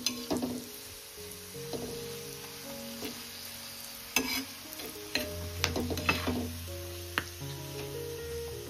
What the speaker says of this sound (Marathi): मस्त मसाले परतून घ्यायचे